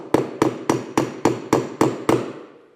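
A hammer strikes a nail set on nails in an apartment finishing job, eight sharp evenly spaced blows ringing close and loud, each decaying before the next.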